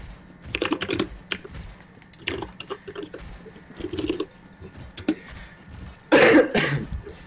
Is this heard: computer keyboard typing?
yes